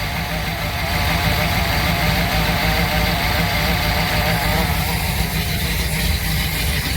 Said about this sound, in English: My power steering pump's still a little noisy.